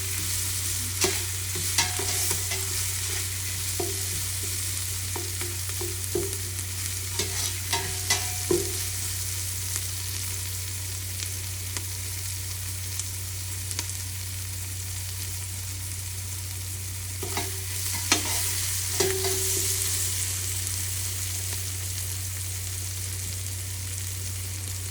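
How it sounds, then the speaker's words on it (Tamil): Onions sautéing in a pan for crab curry: steady sizzling frying with repeated scraping and clinking stirring strokes spaced through it, close and moderately loud with a low hum underneath. "வெங்காயம் பொன்னிறமாக வரைக்கும் தாளிக்க தேவையில்லை."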